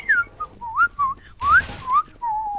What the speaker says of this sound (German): er pfeift!